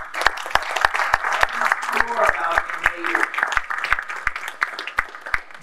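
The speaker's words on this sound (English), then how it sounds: "I'm going to ask a round of applause for him" An awards-night audience at the Onyx Men of Honor 2024 gives a round of applause, steady dense clapping that is loud and close and carries on throughout, while someone talks briefly over it.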